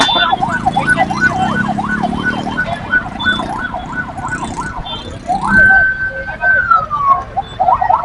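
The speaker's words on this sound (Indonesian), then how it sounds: "sepertinya ada ambulan guys ya, yang membawa rombongan jenazah guys" An ambulance siren wails in a fast rising-and-falling pattern, then shifts to a long steady tone, loud and fairly close, with street noise around it.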